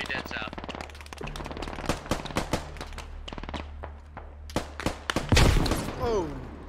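MG3 machine gun firing in a military video game, with a long run of sharp bursts and single shots at steady rhythm, one louder close blast near the end, and voices talking over the gunfire.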